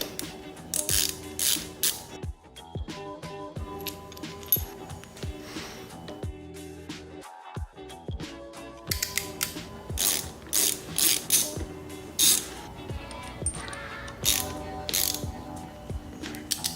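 Motorcycle bar ends being unscrewed and swapped from stock to new ones, giving repeated close ratchet clicks and metallic mechanical ticking in bursts, with brief pauses and no talking.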